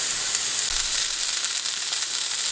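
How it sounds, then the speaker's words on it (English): A giant cheese-stuffed meat patty sizzles in a pan with a little heated oil, a dense, steady, close frying crackle throughout with no talking. "Got a pan with a little oil heated up. Do about a minute on each side."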